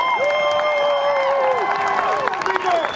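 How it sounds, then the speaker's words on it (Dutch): Crowd at a talk on racism and policing applauds the speakers, clapping mixed with loud whistles and cheering voices, close and lively. "Geef jezelf even nog een hartelijk applaus en ook voor alle andere sprekers."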